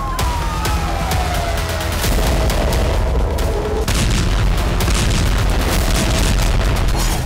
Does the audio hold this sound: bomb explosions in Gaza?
yes